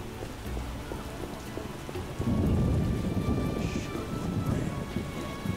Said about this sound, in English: I hope it doesn't always rain here.